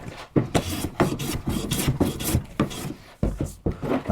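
Hand plane taking shavings along the grain of a wooden board while shaping a traditional carpenter's mallet. Close, rhythmic rasping strokes, about eight in quick succession, each a short swish with a brief pause between, and no talking.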